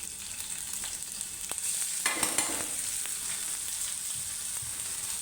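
Crushed chili, cumin and garlic hit hot oil and fry with a steady close sizzle, a brief louder burst of crackling as they go in, then continuous hissing with light stirring scrapes and no talk.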